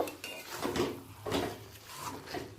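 A spoon or spatula scrapes and stirs through malabar spinach with catla fish head and oil in a pan while garam masala is mixed in, giving several soft scraping strokes and light clinks, close and moderately quiet.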